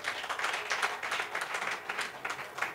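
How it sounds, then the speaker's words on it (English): An audience at an annual general meeting claps for itself, a steady, moderately distant patter of many hands filling the hall for a few seconds. "Please clap for yourself."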